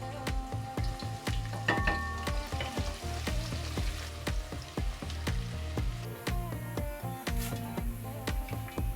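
Onions sizzling as they fry in oil in a pot for an Eid maqluba, with steady close crackle broken by repeated clinks and scrapes of stirring.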